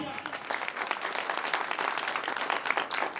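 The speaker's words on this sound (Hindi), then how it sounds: "मैं चाहूंगा पूजनीय दोनों भाइयों के लिए जोरदार तालियां।" An audience claps loudly and continuously for a few seconds, a dense, even burst of applause with no speech on top.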